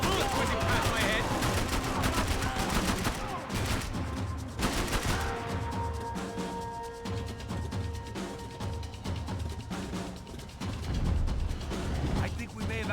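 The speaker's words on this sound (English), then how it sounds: "I can't concentrate with bullets whizzing past my head!" Dense gunfire crackles through a chaotic firefight in Max Payne 3, with rapid shots, mechanical clatter and bullets whizzing past, loud and busy, easing briefly before another burst of shooting.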